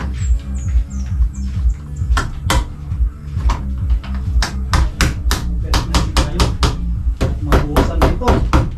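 Hammers striking wood while building a house, a run of sharp irregular blows, some close and loud, over a low rumble with people talking.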